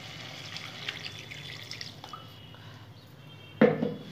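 Water poured into a cooking pot of mustard paste, green chillies, radish and carrot, a soft trickling and dripping under faint kitchen noise, ending in a louder splash near the end.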